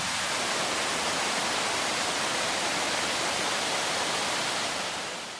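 Waterfall crashing into a deep rock pool in Garden Route National Park, South Africa, heard up close as a steady, loud, broadband roar that stays constant throughout with no voices.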